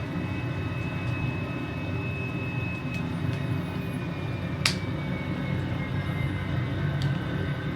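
Helicopter in Microsoft Flight Simulator, a steady droning rotor and engine hum with a faint whining tone, loud and continuous, with one brief sharp click partway through.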